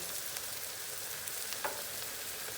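Minced meat frying in a pot with onions and a glass of tap water, a dense, even hiss that stays steady throughout, fairly quiet and close, with no voices.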